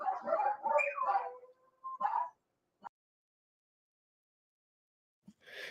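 Dogs barking indoors at home: a cluster of sharp barks and yips close by, a short pause, another bark, a single brief yelp, then a long silence before one more bark at the end.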